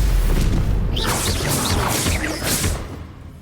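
Bombarda and Confringo spell blasts from the game Hogwarts Legacy, a string of booming, crackling impacts with whooshing bursts over roughly three seconds, loud and close, then fading toward the end.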